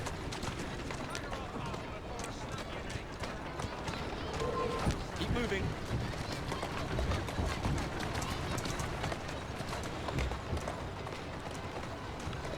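Rapid, rhythmic hoofbeats of a running horse in the video game Assassin's Creed Syndicate continue throughout, with a brief spoken remark and background game noise.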